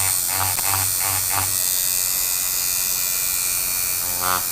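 A tattoo machine engraving a surface gives off a steady electric buzz that pulses in several short bursts at the start, then settles into a continuous hum, with one more short burst near the end.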